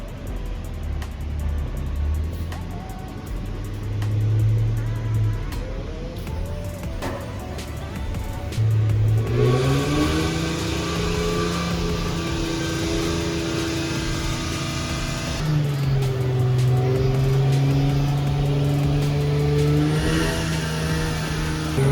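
A Nissan 350Z engine runs strapped to a dyno for a baseline pull, first idling with short blips, then climbing steadily in pitch through a long loud wide-open sweep, dropping briefly and rising again near the end.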